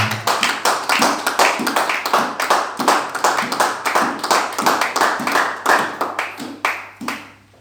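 A church congregation claps in praise of the Lord, steady rhythmic hand claps roughly four per second, loud and close throughout with a low hum underneath.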